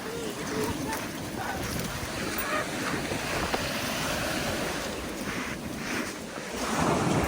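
Waves wash onto a beach in a continuous, loud roar mixed with heavy wind buffeting the microphone, rising and falling slightly as the surf rolls in.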